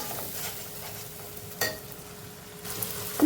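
Spice masala fries in a pan with ginger-garlic paste, giving a quiet, soft sizzle broken by a few brief stirring scrapes.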